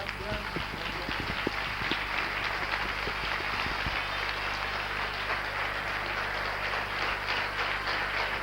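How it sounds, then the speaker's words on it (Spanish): Studio audience applauding after a musical performance on a Spanish television game show, a dense steady wash of clapping that stays loud and even for the whole stretch, with a faint low hum beneath. "pido un fuerte aplauso por esta gran actuación"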